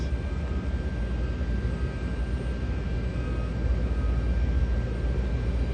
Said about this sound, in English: Somebody's getting ready to go have some fun in that plane.